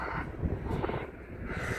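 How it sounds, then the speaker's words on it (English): Steady wind buffets the microphone on a cold day high above York, a continuous low rumbling roar with no speech. "boy oh boy, it's cold and it's windy"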